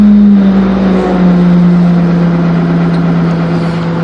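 An excavator's diesel engine idles loud and close just after starting, a steady low drone with its pitch dropping slightly as the throttle is eased down.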